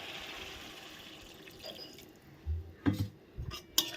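Water is poured into a cauliflower curry cooking in a pan, heard as a few brief, soft splashes and drips near the end after a quiet stretch.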